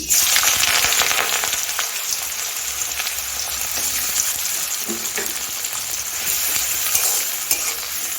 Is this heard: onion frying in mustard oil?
yes